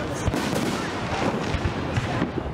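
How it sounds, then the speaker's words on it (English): Fireworks display bursting over Boston Common during a Fourth of July celebration, a steady crackle of dense pops and booms with several sharper reports standing out, fairly loud with a crowd murmuring beneath. "The celebration concluded with a spectacular fireworks display in Boston Common."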